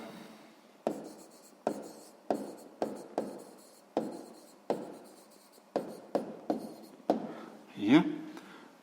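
Chalk or pen strokes writing out a sixth-grade maths calculation, a series of sharp scratchy taps and short scrapes in uneven bursts, close and clear with no talking over them.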